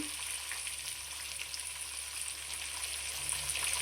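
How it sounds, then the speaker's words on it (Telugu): Tomatoes sizzle steadily in a pan with fried onions and spices, a dense, even crackle of frying that holds without a break. "ఉల్లిపాయలు పోపు సామాను అంతా బాగా ఏగిపోయేవి ఏగిపోయిన తర్వాత టమాటా వేసుకోవాలండి"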